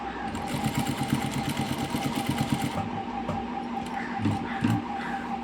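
A sewing machine stitches a trouser back pocket with a rapid ticking needle rhythm and a steady hum, close up, stopping briefly before a few short final stitches.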